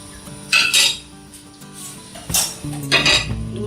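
A metal spoon stirs sugar into a pot, scraping and clinking against the sides in several short bursts, close and fairly loud.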